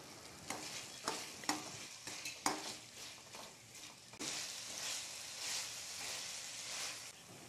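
Restaurant-style egg noodles with green chilli sauce and salt are stirred in a hot pan, with a few sharp utensil clanks against the pan giving way to a steady, soft sizzle.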